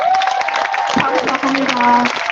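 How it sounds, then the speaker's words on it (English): A crowd at an Asian Lives Matter vigil applauds and cheers loudly, dense clapping filling the space while a voice speaks over it. "Give yourself a huge round of applause."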